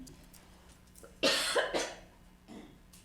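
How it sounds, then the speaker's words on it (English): A person with asthma coughs several times in a quiet meeting room, a harsh close cough followed by a couple of shorter, softer ones. "That's why the cough is there."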